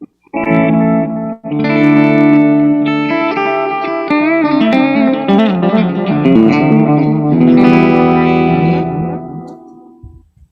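An electric guitar plays through a Wilson Effects double delay pedal with reverb, loud sustained notes and chords trailing echoing repeats that ring out and fade at the end.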